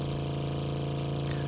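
Car engine running in the video game Drive Beyond Horizons, a steady low droning hum with a faint rhythmic pulse, heard alone and fairly quiet.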